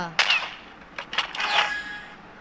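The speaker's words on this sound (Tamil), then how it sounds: "எங்க இருந்தோ புல்லட் வந்தது" Sharp gunshots sound in the mobile battle game Free Fire, with a few quick cracks and metallic pings spread across a couple of seconds, close and fairly loud.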